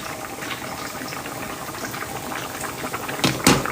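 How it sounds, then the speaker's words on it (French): Vegetables cooking gently in a pot for an African fish and rice dish, with a continuous soft bubbling simmer and a couple of brief clatters near the end. "les légumes sont en train de cuire tout doucement"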